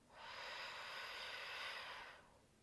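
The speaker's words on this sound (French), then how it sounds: "Par la bouche, je forme un O," A long, steady breath drawn in through rounded lips during a calming yoga breathing exercise, a soft airy rush lasting about two seconds, faint and close, with no talk over it.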